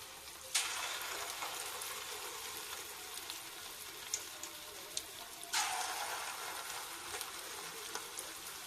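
Leftover idli batter crackles and sizzles as it is poured onto a hot pan and cooks, with a sudden hiss as each ladle lands and a steady, quiet frying crackle between.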